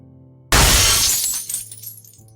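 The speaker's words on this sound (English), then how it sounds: "An officer smashed the window. Glass exploded outward." A window is smashed, a sudden loud crash of breaking glass followed by tinkling shards scattering and fading over about two seconds, with a low hum underneath.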